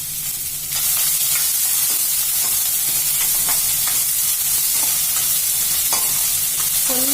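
Chopped onion tipped into hot oil in a pan for a baby potato curry, with a sudden loud sizzle that stays as a steady, close hiss, broken by faint spatula scrapes and pops.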